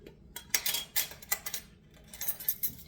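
Sourdough English muffin batter stirred with a utensil in a bowl, producing a series of close, light clinks and scrapes in an uneven rhythm over a quiet background.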